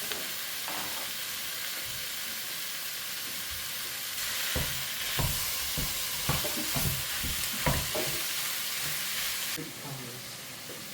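Minced meat sizzles and fries in a hot pan for meat pies, with a steady hiss and a run of close, irregular scraping and clattering stir strokes in the middle stretch; no talk.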